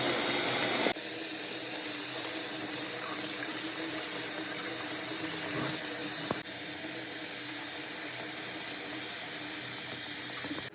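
Hot water runs steadily from a tap into a bathroom sink or bucket, mixed for toilet cleaning with bleach and pine salt, a continuous close hiss with a couple of small knocks.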